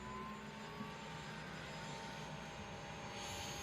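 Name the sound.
helicopter rotor starting up in a VR flight video game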